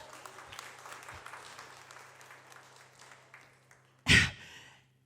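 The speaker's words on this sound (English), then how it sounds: "Give a louder clap." A church congregation at a Resurrection Day service claps in a soft, scattered patter that builds, followed by one sharp loud burst near the end.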